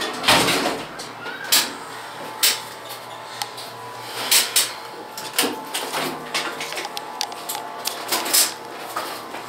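An Otis hydraulic elevator at a Lombard, Illinois shopping centre closes its doors with a series of sharp clacks and rattles at a steady rhythm over a low mechanical hum, loud and close.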